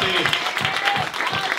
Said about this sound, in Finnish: antaa aplodit illan finalisteille